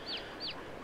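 Chickens and roosters in Farming Simulator 22 give two short, fairly faint calls about a third of a second apart over a steady low background hum.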